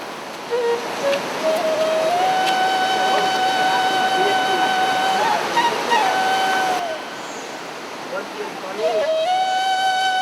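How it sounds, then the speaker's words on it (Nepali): A river flows continuously beside a small room, a loud, steady rushing wash of water with a thin sustained whistling tone riding over it. "रात दिन नदीको आवाज आइरहेको छ, पानीको कलकल"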